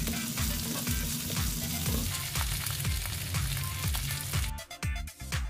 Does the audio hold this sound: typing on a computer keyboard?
no